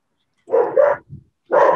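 A dog gives two quick close barks followed by a soft grunt, then another loud bark after a short pause, with nothing else around it.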